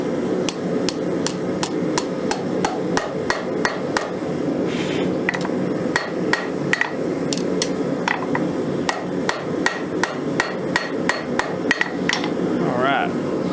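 Hammer blows ring out on an anvil while scrap rebar is forged and bent, a long run of sharp metallic strikes in a steady rhythm, close and loud with brief pauses between groups.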